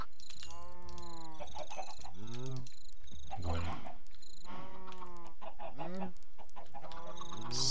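Clucking chickens from Minecraft, a series of short pitched, harmonic clucks and squawks repeating through the clip at moderate loudness, with no talk over them.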